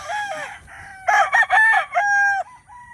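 A blue face hatch gamecock rooster crows at close range in a single clear, loud cock-a-doodle-doo, with a shorter lead-in call before it and no one speaking.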